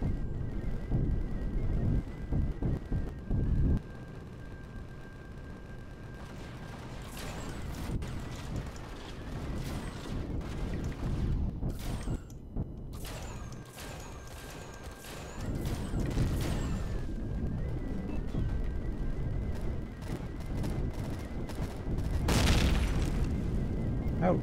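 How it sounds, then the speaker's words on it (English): Big guns fire and explosions go off in the space survival game Empyrion Galactic Survival, with heavy booms and crashes recurring across the stretch, some loud and near, and a mechanical hum and a voice heard at times. "Fire them big guns anytime now, I won't mind."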